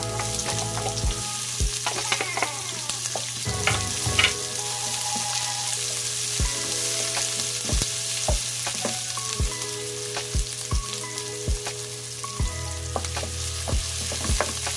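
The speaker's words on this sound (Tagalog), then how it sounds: "Hinahin ko muna yung aking onion guys. White onion po yung gamit ko." White onion sautéing in a pan as the start of a sweet and sour pompano fish dish, giving a continuous close sizzle broken by scattered clicks and scrapes of stirring, with no voices.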